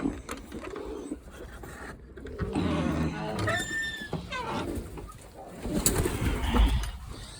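Pigeons coo in a breeding loft, with low cooing calls repeating through the clip amid rustling and other bird sounds, and someone speaking over parts of it.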